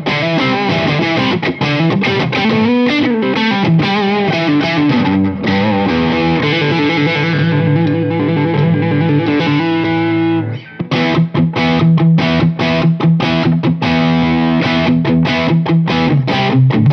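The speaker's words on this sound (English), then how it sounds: "let's hear it with some neck pickup tones," An inexpensive electric guitar played through its neck pickup with distortion, loud chords and single notes ringing with a thick, saturated tone, a short gap near the middle before a driving rhythmic passage resumes, with no talking.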